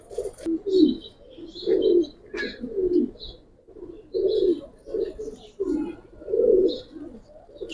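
A female pigeon of a fancy breed coos repeatedly in close, low rolling phrases, with faint chirps from other birds in the background.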